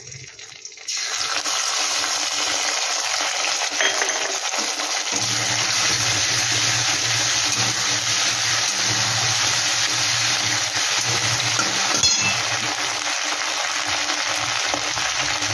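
Ginger and green chili paste frying in a pan, with a steady loud sizzle that starts abruptly and holds throughout, plus occasional stirring scrapes.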